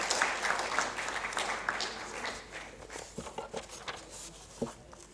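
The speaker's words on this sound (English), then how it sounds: "I request the audience to welcome them with a big round of applause." Audience applause welcoming speakers at the LVDC Summit technical session, a roomful of clapping that starts fairly full and thins out into scattered, distinct claps, heard at a moderate distance.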